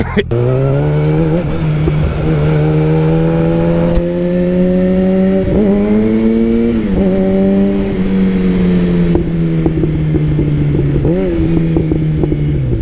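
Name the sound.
Yamaha FZ1 motorcycle revving during a rev-matched downshift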